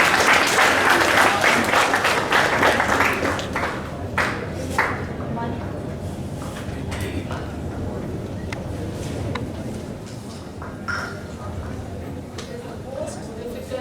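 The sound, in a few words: audience applause at a school assembly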